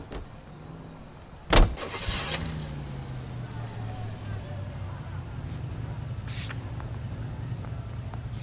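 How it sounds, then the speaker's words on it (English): A car in L.A. Noire gives a sharp thud like a shutting door, then its engine settles into a steady low running hum that continues to the end. "Nice car, Roy."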